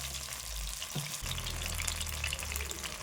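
Chicken deep-fries in hot oil with a steady, close, continuous sizzle, with a brief stir or clink near the start.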